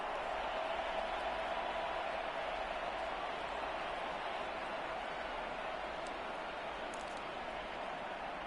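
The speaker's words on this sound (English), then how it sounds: "The crowd getting into it as we come up on a big 3rd down." A big football stadium crowd roars steadily ahead of a crucial third down, a dense continuous wash of cheering with no pauses, and no one talking over it.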